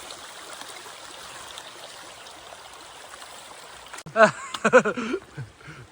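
A steady rush of flowing stream water on the Camino de Santiago between Zubiri and Pamplona fills the background throughout, with a person talking briefly near the end.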